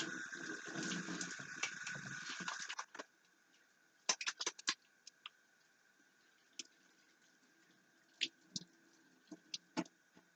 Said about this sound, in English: I am going to quickly wash my hands the way I might do if I were just coming home